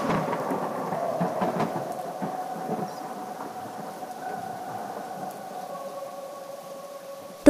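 Heavy rain hisses steadily as thunder rumbles low, loudest at first and then easing into a quieter, even downpour.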